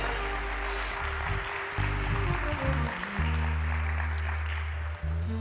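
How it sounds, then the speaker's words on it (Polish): An audience applauds at a business award ceremony, steady clapping under a background of low tonal music for about five seconds. "Wielkie brawa."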